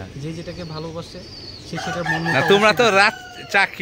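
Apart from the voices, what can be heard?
rooster crowing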